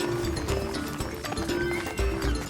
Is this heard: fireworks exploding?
no